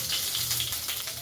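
Dried chilies and five-spice seeds (panch phoron) crackle and sizzle in hot oil with a steady, close hiss, alone and without talk.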